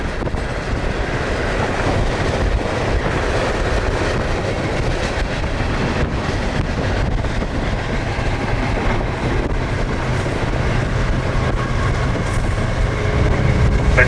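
A freight train rumbles past at close range in one continuous, steady roar with rail clatter and some wind buffeting on the microphone, no voices.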